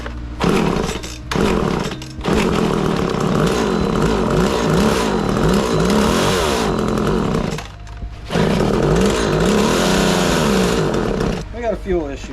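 A MAC 3216 chainsaw engine fires up and revs, its loud buzzing whine rising and falling in repeated pulls of the throttle, with brief cutouts between bursts.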